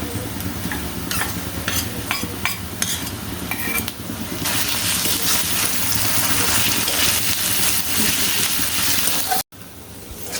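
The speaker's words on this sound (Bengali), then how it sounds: "দেখুন মশলাটা প্রায় ভাজা ভাজা হয়ে এসছে।" Spice paste with garlic, ginger, raisin and nut pastes frying for khichuri, with spoon scrapes and stirring clatter at first giving way to a loud steady sizzle, ending in a brief cut.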